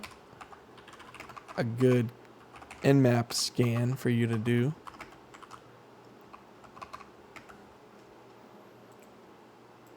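Computer keyboard typing clicks softly and steadily in the background while someone talks loudly in bursts near the start, with the keystrokes continuing alone afterward.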